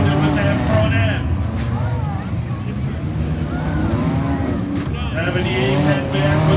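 Demolition derby cars at a county fair grind and rev in heat action, a loud continuous engine roar with bursts of metallic crunching, while an announcer talks over the noise throughout.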